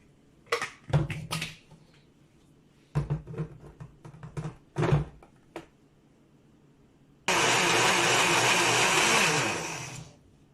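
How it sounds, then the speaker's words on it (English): Kitchen blender pulsing aloe vera peel: several short bursts of whirring, then a loud sustained blend lasting a few seconds before cutting off, close and alone. "I can still see lumps and chunkiness of the aloe vera peel. So I'm going to go ahead and blend it again."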